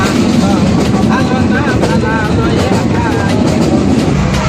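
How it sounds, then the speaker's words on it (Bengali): A train pulls into Rangpur station, a loud continuous rumble and rattle of rail cars with squealing tones above, filling the whole stretch without pause. "ট্রেনও চলে আসলো।"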